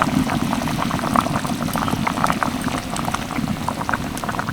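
Gravy boiling hard in a pot as pieces of boiled egg are added, a loud, close, continuous bubbling with dense popping and splashing throughout.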